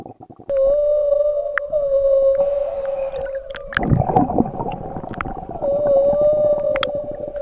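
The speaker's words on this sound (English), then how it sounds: "Whale." Whale calls in a sequence of long, sustained tonal moans and howls with some gurgling, fairly loud and alone, with a brief burst of noisy splashing or rumble near the middle.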